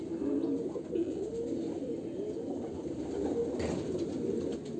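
Two Andhra pigeons with pilanka eyes give soft, low cooing that rises and falls continuously over a steady noisy backdrop, with one brief rustling burst near the end.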